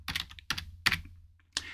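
Four distinct keystroke bursts on a computer keyboard as text is typed, crisp and close, with short pauses between them and no talk.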